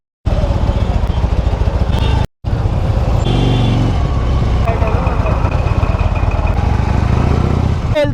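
Harley-Davidson Fat Bob 1800cc cruiser motorcycle idles loud and close in a jammed city road, a deep throbbing V-twin rumble with a brief cut-out, surrounding traffic noise and a voice talking over it.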